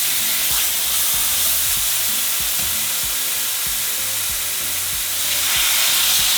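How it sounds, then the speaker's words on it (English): Carne asada steak sizzling on a hot griddle with a constant, loud, close crackling hiss and occasional soft low thuds. "we're going to begin to cook our steak"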